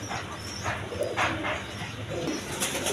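Pigeons of various breeds kept in pairs at a bird seller's coop coo steadily, a dense overlapping murmur of soft calls with a faint bark and chirps mixed in, close and continuous throughout.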